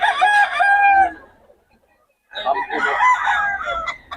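Chickens and a rooster at a poultry market in Bocaue crow loudly and close by, two bursts of clucking and crowing separated by a brief quiet gap.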